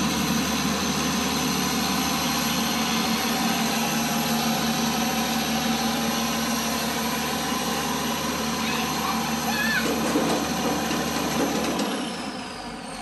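A 1991 Case combine harvester's engine runs at a steady, loud drone with a deep low hum and mechanical whine, continuing unchanged before easing off slightly near the end.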